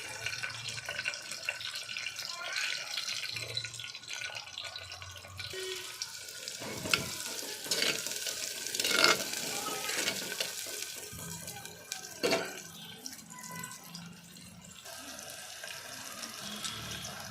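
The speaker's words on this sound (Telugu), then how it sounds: "పచ్చిమిర్చి వేస్తున్నా, నూనె పెట్టుకున్నాను, ఫస్ట్ వేడెక్కింది." Green chilies and onion frying in hot oil in a clay pot, a steady close sizzle with scattered crackles and pops running throughout, no talking over it.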